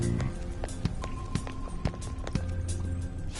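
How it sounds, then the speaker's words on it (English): Quick footsteps approach in Persona 5 Royal, a steady run of crisp taps at an even pace heard close over a low ambient game backdrop, with no talk. "I can hear footsteps coming."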